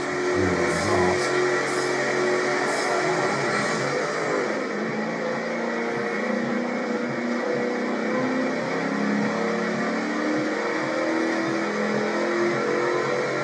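A Ford P71 Crown Victoria exhaust in Forza Motorsport 7, racing at Suzuka in the rain, with a steady, loud engine drone held throughout, a brief rev flare at the start, and rain hiss over it.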